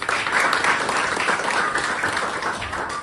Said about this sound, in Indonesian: Oke, tepuk tangan buat Luwinik.